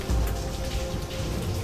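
Rain falling outdoors near a cave in Norway, a steady, dense hiss of drops spattering on surfaces all around, continuous and fairly close with no talk over it.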